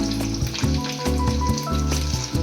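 Betel leaf bajji fritters fry in hot oil with a dense, steady sizzle and bubbling crackle, loud and close throughout with no talking.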